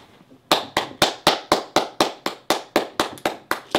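In a classroom, one person claps sharply and close by, about fourteen crisp claps in an even, fairly quick rhythm, starting after a short quiet moment.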